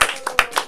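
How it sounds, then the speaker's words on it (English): A comedy club crowd claps for comedians at a stand-up night, heard as a few quick, sharp bursts of hand claps over about a second. "Keep your clapping, keep clapping, keep clapping, keep clapping for Ryan C. Benson"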